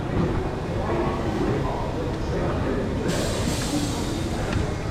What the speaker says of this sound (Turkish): Geldi benim tren.